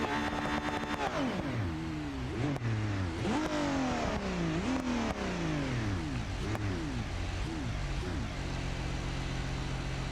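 A race car engine in the BeamNG.Drive driving game revs hard several times in a row. Each rev climbs quickly and then drops away as gears change, loud and close throughout, before settling into a steadier drone near the end.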